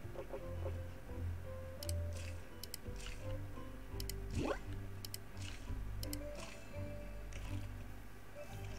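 Soil being watered in the farming game Cornucopia: soft repeated squishy drips and small liquid ticks, fairly quiet, set against steady background game music.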